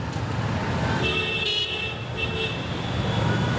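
Heavy rush-hour traffic jam on a city road near Tollygunge, with car engines rumbling close by and a short car horn toot sounding midway over the dense roadway noise.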